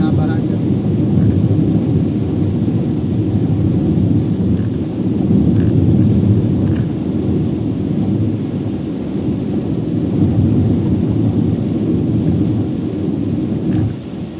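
Heavy rain roars steadily on an expressway, the Central Luzon Link Expressway, with a loud continuous low rumble of downpour and thunder and faint higher pattering throughout, no speech.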